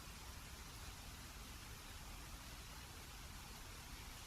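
Steady hissing rain in the video game Aion 2, an even, faint wash of falling drops with no change and no voices.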